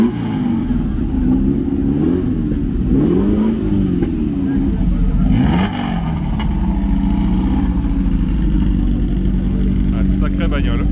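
A Ferrari historic rally car at the Monte Carlo historic rally, its engine loud and close, rising and falling through several revs while someone talks over it.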